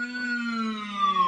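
Electric guitar pinched harmonic bent up, then lowered with the vibrato arm, producing a single sustained squealing note that slowly slides downward in pitch, loud and close with no talk.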